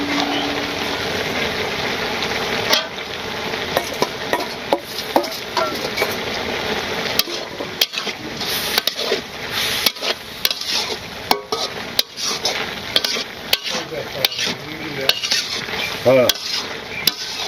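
Shrimp being stirred and fried with soft potatoes, garlic and pui greens in a pan, a constant sizzle broken by frequent scraping clinks of a metal spoon against the pot.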